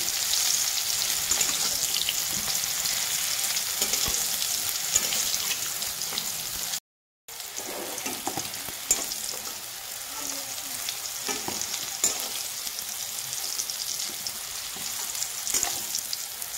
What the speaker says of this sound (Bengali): আমার করলাগুলো ভাজা হয়ে গেছে, তুলে নেব। দেখো লাল লাল করে ভেজে নিয়েছি।